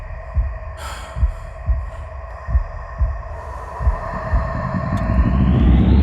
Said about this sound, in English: just the pounding of my heartbeat filling my ears